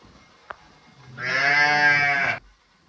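A calf in Fofsandi village in the Sahyadri hills gives one sustained, fairly loud moo lasting over a second, preceded by a single sharp click in otherwise quiet surroundings.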